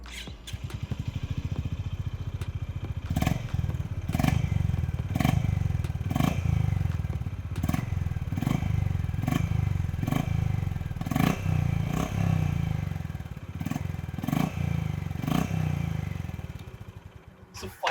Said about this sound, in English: And now the Honda H'ness CB350.